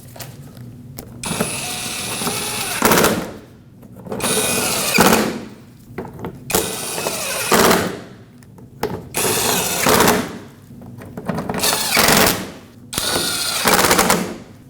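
A power tool runs in repeated bursts, driving six bolts into the front bumper and bottom panel of a 2005-2021 Nissan Frontier; loud rattling whirs of one to two seconds, separated by short pauses, with no talk.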